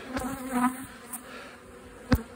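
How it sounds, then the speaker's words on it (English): Honeybees buzz around stacked honey boxes on pallets as they try to rob back the honey, a close, wavering drone with a few individual bees passing right by the microphone, no talk. "bees trying to rob the honey back from the stacked boxes"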